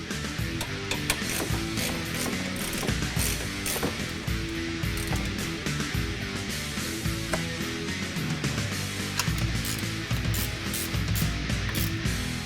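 Continuous ratchet clicking while tightening front mount intercooler brackets on a 2015-2022 Mustang, dense rapid metallic ratcheting and grinding mechanism noise held at an even loud level throughout, no talking.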